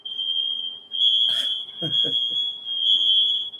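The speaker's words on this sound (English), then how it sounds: "That's my smoke detector going off right now." A home smoke detector sounds off while someone is cooking indoors, a loud continuous piercing tone running steadily through the whole stretch, with a voice talking briefly over it.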